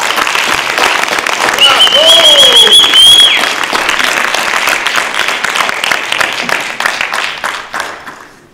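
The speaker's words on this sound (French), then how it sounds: "je voudrais qu'on l'applaudisse" Audience at a talk applauding Riccardo Petrella, loud sustained clapping from a crowd that tapers off near the end, with a brief whistle and a voice over it early on.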